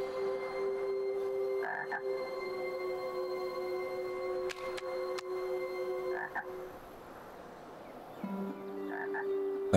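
Frog croaks come in short repeated bursts over a steady, droning musical background in the video game Lost in Play, with no talking.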